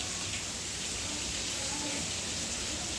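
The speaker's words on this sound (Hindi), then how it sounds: "बारिश अभी देख रहे हैं कितना झुमाझम हो रहा है" Heavy rain pours down steadily, a dense, unbroken hiss filling the whole clip, loud and close, with no gaps or other sounds standing out.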